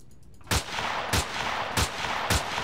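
Gunfire aimed at a door in the video game Empyrion: four sharp, loud single shots spaced evenly about half a second apart, each cutting through a steady hum of game background noise.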